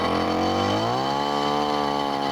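A power drill bores into collapsed building rubble at the 1997 Thredbo disaster site, its loud continuous motor whine climbing in pitch after a second and then holding steady, with no talk.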